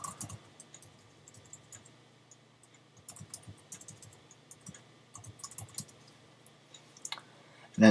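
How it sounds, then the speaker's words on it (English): Typing on a computer keyboard, soft irregular key clicks close by at a quiet level, no talking. "And then type the word Spybot."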